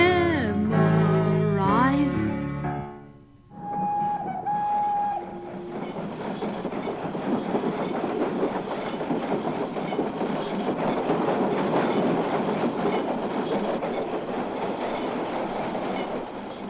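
After some brief musical tones at the start, a train rolls along with continuous rattling clickety-clack, steady and fairly loud for the rest.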